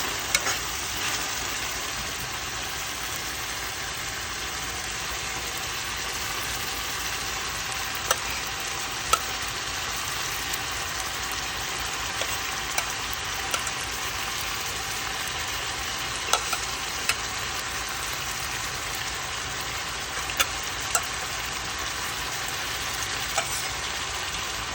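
Salt mackerel frying in a pan for a Jamaican breakfast, a steady dense sizzle with occasional sharp pops and crackles throughout, close and loud, with no talking.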